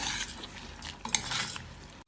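A spoon clinks and scrapes against a pot while chopped mango is stirred into a jackfruit seed and drumstick curry, in soft close scraping with a few light metallic taps.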